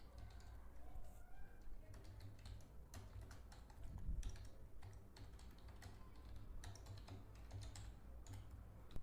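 Keys clatter on a computer keyboard in a quiet room, an uneven run of close, light taps with brief pauses between bursts.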